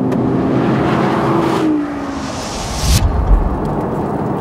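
Audi R8 V10 Plus engine revving hard, a rising howl that breaks off with a gear change, then a rumbling surge, loud and close.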